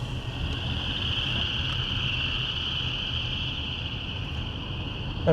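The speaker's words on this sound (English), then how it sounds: "Those are frogs. They're everywhere." Frogs call everywhere after heavy rain among wet roadside patches, blending into a dense, unbroken high-pitched chorus that drones steadily throughout.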